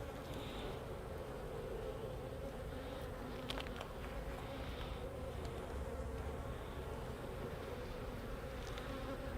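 A dense, steady drone of many honey bees buzzing close by in an open, queenless hive, continuous and unbroken throughout.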